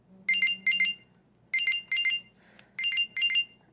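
A Samsung Gear S3 smartwatch's Find My Phone alert rings in repeated bright double-chirp bursts, three pairs with short gaps, loud and close, with a faint low hum underneath and no talking.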